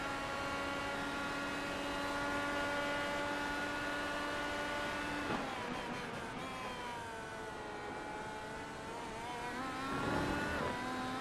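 IndyCar race cars in the iRacing video game at Circuit Gilles Villeneuve howl steadily at high revs, engines shifting pitch as they jump a curb, with a second car's tone rising near the end.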